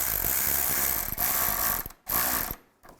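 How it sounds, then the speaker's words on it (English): Ratcheting clicks from a tool tightening a radiator hose clamp on a 2002-2009 Chevy Trailblazer, a steady close burst of rapid clicks that stops briefly twice, with no talk. "And tighten down the clamp."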